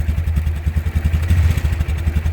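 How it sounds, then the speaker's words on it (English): A 2000 Polaris Sportsman 500 6x6 ATV engine runs close and loud with a rapid, even, thumping low chug, steady throughout without talking. "Here, try to rev it just a little bit, bring it up in the RPM range."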